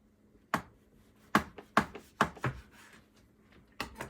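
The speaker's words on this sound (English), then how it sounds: "Now cut the cookie dough into cookies." A knife slices through chilled chocolate chip cookie dough in about six separate, sharp strokes: a few close together in the middle, then a pause before a final cut. Each stroke is close and crisp against a quiet background.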